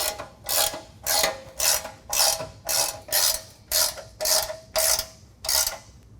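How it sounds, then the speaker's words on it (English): A ratchet wrench tightens bumper mounts on a Jeep JK during a Rugged Ridge XOR rear bumper install, about a dozen evenly spaced clicking bursts close to the microphone, with no one talking. "now we're going to tighten these mounts onto the side of the bumper"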